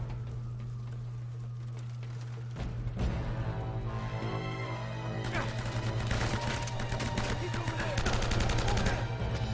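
Rapid M4 rifle gunfire in the video game Uncharted: Drake's Fortune starts after a couple of quiet seconds over a steady low hum, then continues as loud, dense bursts with a few sharp impacts mixed in.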